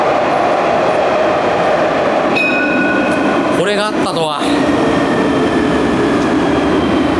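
A tram heading to the airport in Nice, France rumbles steadily from inside, a constant loud roar with faint tonal whines, and a person speaks briefly partway through.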